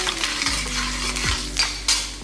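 Finely chopped ginger with asafoetida frying in hot oil in a pan for lemon rice, a steady sizzle with a few scraping stirs of a spoon against the pan, close and fairly loud, no talking.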